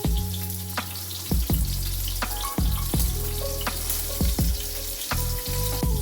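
Yellowfin fish steak sizzles loudly in a hot pan as sesame oil goes in, a dense, steady frying crackle with occasional clinks of utensils, no talking.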